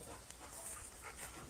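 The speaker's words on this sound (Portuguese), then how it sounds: "Tenho aqui o meu cão, está maluco." A pet dog named Hercules, worked up after spotting a cat, pants and whimpers softly in a continuous, breathy stream with faint whining peaks, heard at low volume with no talking over it.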